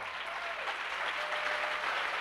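Audience applause fills a hall at a Beachbody Super Saturday fitness event in Chicago, 2014: a dense, steady wash of many hands clapping, heard at moderate distance and fairly soft, with no talk over it.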